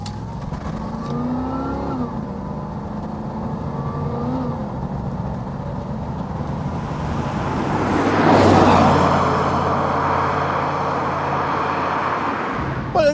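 A 1988 Pontiac Firebird with a 5.7 litre V8 drives up the road, its engine droning steadily, then building to a louder, rising surge of acceleration before settling into a sustained cruise.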